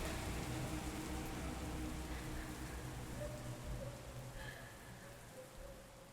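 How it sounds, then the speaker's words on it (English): Rain falls in the indie horror video game Chordosis, a soft, even patter of drops on surfaces that holds steady and fades slightly toward the end, with no voices. "A little bit of that Hungarian rain."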